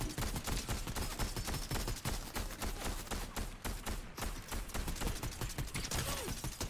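Rapid, dense game gunfire from Fortnite crackles nonstop, loud and close, with bursts of shots overlapping into a steady barrage and brief mechanical clatter between volleys.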